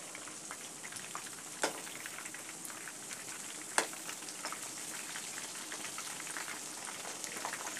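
Chicken pakora frying in oil, a quiet, even crackle of small bubbling pops with a couple of sharper spits.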